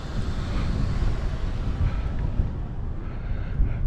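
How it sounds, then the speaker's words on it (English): Wind blowing into a GoPro microphone fitted with black foam, producing a steady low rumbling buffet throughout without speech. "So I can hear the wind"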